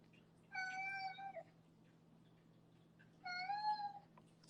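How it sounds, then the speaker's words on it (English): A cat named Max meows twice, each a long drawn-out nasal call about a second long, close and clear over a low steady hum in a quiet room. "I feel like if I answer him, he'll stop meowing."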